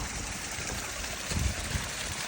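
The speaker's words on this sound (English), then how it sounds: "Beautiful little waterfall." A small waterfall and stream on the Appalachian Trail just past Low Gap Shelter in January, giving a steady broadband rush of water with no pauses, close and fairly loud.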